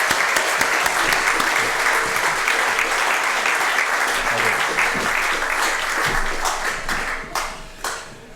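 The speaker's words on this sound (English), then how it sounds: "Will you please give a great round of applause to Danny and to Martin." A community-ownership anniversary celebration audience gives sustained, dense applause across the full clip, loud and steady at first, then thinning toward the end with a few scattered claps.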